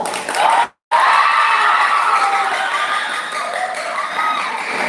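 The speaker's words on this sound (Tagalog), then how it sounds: "gusto namin marinig ang sigawan ng para sa candidate number" A large crowd at a school pageant contest cheers, whoops and screams loudly and continuously for candidate number 4, with children's high-pitched shouts standing out in the roar.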